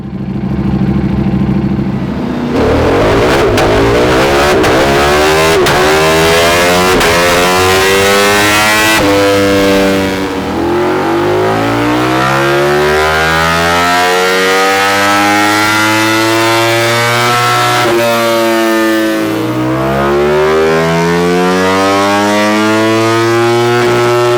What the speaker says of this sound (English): Now let's get it on the dyno, see what it does there.